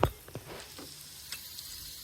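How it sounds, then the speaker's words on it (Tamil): Dried red chillies and shallots frying in oil, a soft, low sizzle following a sharp knock at the start, with a few faint scraping stirs. "மிளகாய் எண்ணெயிலேயே கொஞ்சம் நேரம் நல்லா வேகட்டுங்க"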